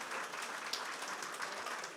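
Steady applause from a live podcast audience in a room, a soft, even wash of clapping lasting a couple of seconds.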